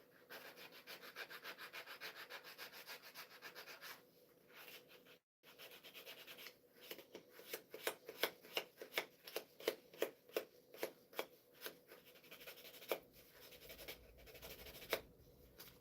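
Hand sanding a bandsaw line off a wooden bandsaw box, with steady close rubbing at first, a brief pause, then distinct rhythmic back-and-forth strokes, soft and alone.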